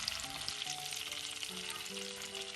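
Cumin seeds sizzle in hot oil for gotala dosa masala, a steady, close crackling hiss without pause and with no talking, while faint tonal sounds drift in the background.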